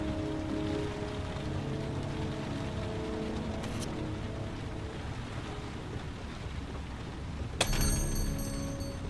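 Steady rain pours in the video game Heavy Rain, a dense continuous hiss with low rumble throughout, and a brief sharper burst near the end.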